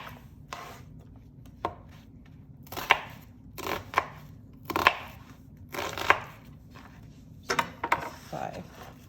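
A knife chops onions into chunks on a cutting board for a breakfast hash, a series of sharp irregular knocks and crunches up close, with a voice talking at times in between.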